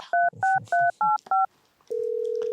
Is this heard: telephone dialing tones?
yes